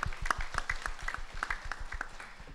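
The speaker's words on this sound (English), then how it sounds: "So if we can give her a round of applause too." Sparse applause from a small audience at a neighborhood town hall meeting, individual claps spaced irregularly and moderately faint in a quiet room.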